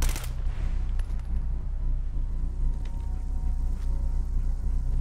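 Automatic weapon fire rattles through a Fallout 4 firefight during a bear-hunting quest mod, a dense sustained burst of shots over a low rumbling game background, with no speech.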